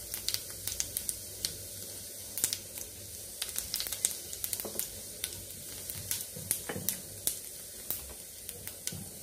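Cumin seeds sizzling in hot oil for a ridge gourd peel chutney, a steady crackling fry with scattered sharp pops and spits throughout, fairly close and without talk.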